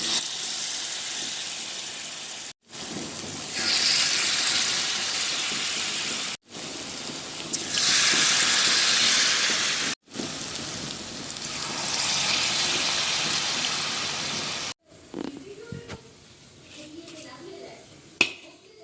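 Pakoras in a batter of lentil flour and semolina sizzle in hot oil with a loud, rain-like hiss. The frying comes in several long bursts split by brief silences, then gives way to softer clinks at the end.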